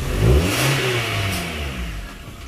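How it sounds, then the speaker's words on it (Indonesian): Proton Exora car engine firing up and revving, a quick rising roar close by that settles into a lower hum within a couple of seconds, with no talk over it. "Nyalain mesin."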